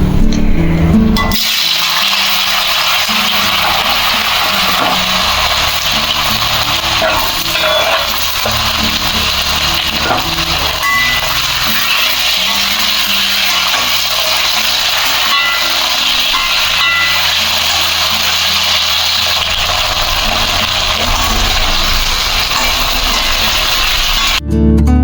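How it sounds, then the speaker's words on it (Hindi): Potatoes frying in hot mustard oil: a loud, continuous hissing sizzle that fills the clip almost unbroken, with faint clinks and stirring underneath. "आलू में नमक डालकर इसको फ्राई कर लेना है"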